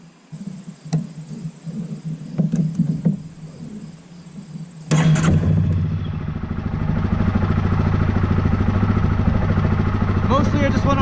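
A Yamaha Grizzly ATV engine with overheating and fuel-spray issues starts out with clattering mechanical noises, then roars into a steady, loud running drone while riding, with some talk over it.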